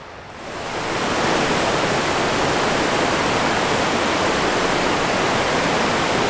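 A river in Torridon, Scotland, swollen after heavy rain, rushes past close by as a loud, steady, unbroken roar of flowing water with no voices.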